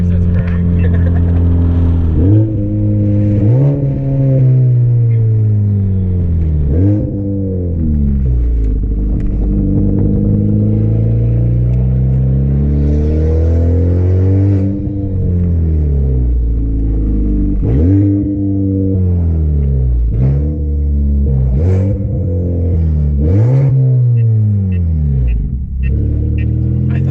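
A Honda Civic Type R FK8 with an open front pipe exhaust pulls hard through the gears, its loud, raspy engine note climbing and dropping again and again at each shift, close and continuous.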